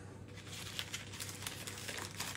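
Paper crinkles softly while puff pastry is rolled up for Nutella snails, a faint, brief run of close crackling rustles with no talking.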